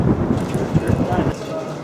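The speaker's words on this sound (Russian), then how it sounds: "Дождик идет." Rain patters and rumbles steadily nearby in Juneau, a dense wash of drops with low, rolling noise underneath.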